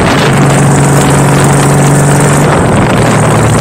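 Custom Honda Valkyrie bobber motorcycle with a flat six engine running, a loud, steady low rumble and roar held close to the microphone with no voices.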